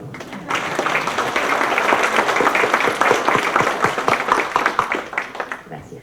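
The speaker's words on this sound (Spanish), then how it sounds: "Ay, perdón, un aplauso por favor para todos." An audience at an institutional talk on election organization applauds, a dense burst of clapping building quickly and holding steady for several seconds before thinning out.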